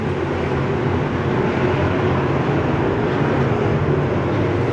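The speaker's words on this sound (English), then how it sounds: "As Chris Bayhigh throttles it up" A race car in a Crate Racin' USA and Southern Street Stock Nationals feature race roars steadily as it throttles up, a dense, continuous engine drone mixed with other cars on the track, loud and unbroken throughout.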